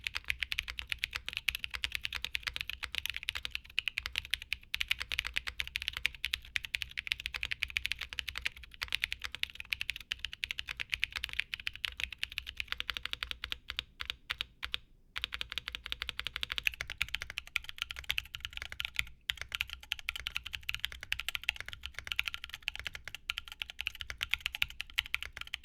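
Continuous fast typing on a 65% Mode Envoy-style keyboard, here a Matrix Corsa fitted with BadSeed tactile switches and foam for a muted, foamier sound; dense steady clacking throughout, close and moderately loud, with no talking.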